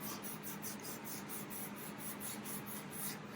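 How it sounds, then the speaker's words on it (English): Light sanding across the painted top of a guitar, a steady close scratchy rasp pulsing in quick regular strokes, about three or four per second, with no talking. "I'm just going over this with some lightly sanding this top down just a little bit"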